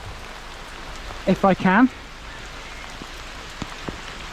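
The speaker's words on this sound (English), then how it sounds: "Now, let's see if this rain stops." Steady rain falls outdoors on a rural roadside in Overton, Hambleton parish, a continuous soft hiss with a few faint drips, while someone speaks briefly in the middle.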